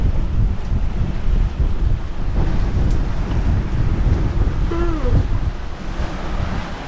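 Strong wind roars steadily over a sailboat at sea with waves washing around the hull, a continuous loud rush with no clear breaks, broken only by a brief faint tonal squeak midway.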